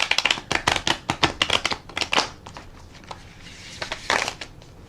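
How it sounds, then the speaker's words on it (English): Tarot cards shuffled by hand up close, a quick burst of crisp rhythmic card flicks that pause briefly and then resume, with no voices. "We're going to shuffle the cards."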